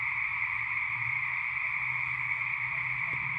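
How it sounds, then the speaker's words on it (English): A dense chorus of frogs trills continuously at a steady level, a constant wall of croaking from many animals, on motel grounds in Myrtle Point, Oregon. "Frogs of Myrtle Trees Motel in Myrtle Point, Oregon"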